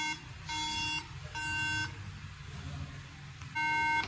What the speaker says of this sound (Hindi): मदरबोर्ड रैम ना उठा रहा हो तभी भी बीप आती है